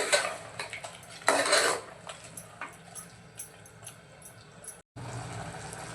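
Tomato paste being stirred into spiced chicken curry in a pot for Malvani-style chicken rassa, a spoon clattering and scraping against the metal in irregular knocks, with one louder burst of scraping partway through.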